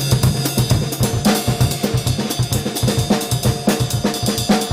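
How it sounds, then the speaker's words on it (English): Drum kit driving a fast Brazilian samba groove, dense and loud with rapid repeating kick and snare strokes over constant bright cymbal wash. "Let me do a samba first."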